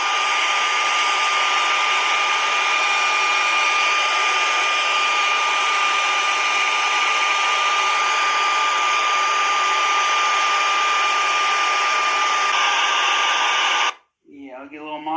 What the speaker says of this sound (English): I'm just going to get a blow dryer